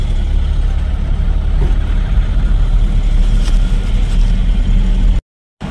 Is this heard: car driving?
yes